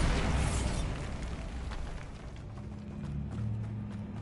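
A Bombarda spell explosion in the Hogwarts Legacy video game bursts loudly at the start, followed by a rumbling decay and lingering magical game noise.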